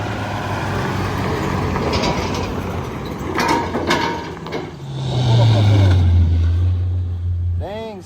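CFMOTO Z10 Turbo side-by-side driven on a test run, a loud engine drone that rises in pitch as it accelerates, with rattles and mechanical clatter and a person talking over it.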